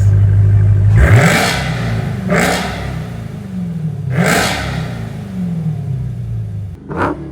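Dodge Hellcat with an upgraded exhaust, valves open, starting with a steady idle and then revving hard three times in rising, rasping sweeps that fall back between blips, loud and close, with a short final blip.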